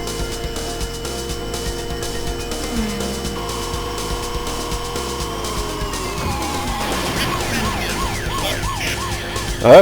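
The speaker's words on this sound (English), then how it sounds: "Police car that keeps turning up" Wailing police car siren from the Turbo Out Run arcade coin-op game, rising and falling over a continuous engine drone and game music, loud and steady throughout.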